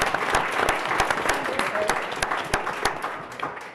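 A crowd at a board of education recognition applauds a recipient from Plymouth Center School, steady close clapping with distinct sharp claps standing out and some cheering voices mixed in.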